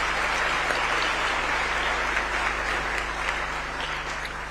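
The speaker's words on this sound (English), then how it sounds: "Another round of applause for His Excellency and all the speakers" Sustained audience applause in a conference hall at the World Health Summit Regional Meeting in Nairobi, a steady even wash of many hands clapping that holds at full strength for several seconds with no voices on top.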